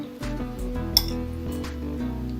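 A knife slicing into a layered salad on a plate, with a few light clinks of metal against the dish over a steady background hum.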